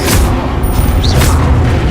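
A fire spell, Incendio in Hogwarts Legacy, erupts in a continuous loud, booming rush of flame lasting under two seconds, with a few brief whooshing swells riding over the low rumble.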